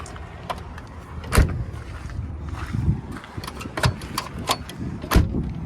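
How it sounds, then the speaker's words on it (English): The door of a 1958 Studebaker Commander is pushed shut several times. It gives sharp metallic thumps and clunks at irregular intervals over low background noise, with the door not latching cleanly. "Yeah, that door don't want to close good."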